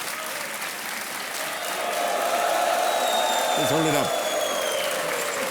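A studio audience at a KBC quiz show applauds in loud, sustained clapping that swells midway, while someone speaks briefly over it.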